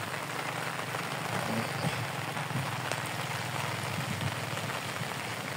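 Steady rain falling over a lake at a fishing spot, an even, continuous hiss of drops hitting water and surfaces, close and constant with no other sounds standing out.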